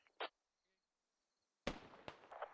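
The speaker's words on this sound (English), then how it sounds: "Sounds like those mortars are hitting in." Mortar rounds landing in a military video game battle, a brief sharp pop early on, then a loud blast about halfway through followed by crackling, rumbling impacts that keep sounding as the clip ends.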